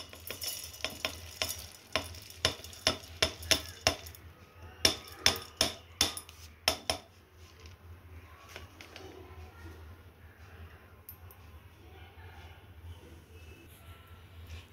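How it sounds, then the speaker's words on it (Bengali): Mung lentils dry roasting with a little salt in a pan for a sweet: a run of sharp clacking stirs and knocks from the utensil, then a quieter, steady scraping and rustling of the dry lentils. "সেই জন্য একটু নুন দিয়ে এটা ড্রাই রোস্ট করে নেব।"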